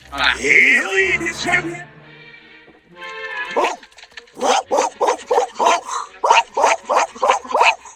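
A dog barks in a quick run of about ten sharp, close barks after a few whimpering, yelping sounds at the start, with no talk over them.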